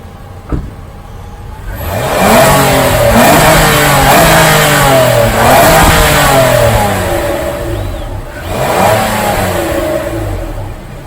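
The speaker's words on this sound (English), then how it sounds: "let's just grab that dual tipped exhaust and see how that sounds." A 2019 Nissan Murano engine revs repeatedly through a dual-tipped exhaust, rising and falling in loud, close bursts over a steady idle, with no talking.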